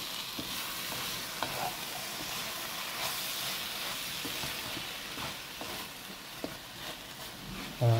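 Drumstick (moringa) leaves fry in a pan with a steady sizzling hiss while a utensil stirs them now and then, leaving soft scraping clicks. No one speaks.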